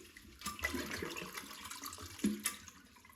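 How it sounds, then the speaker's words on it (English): Toilet being flushed to drain its tank after the water supply is shut off, a quiet continuous rush and trickle of draining water with a few faint clunks. "And then I'll give the toilet a flush just to drain the water."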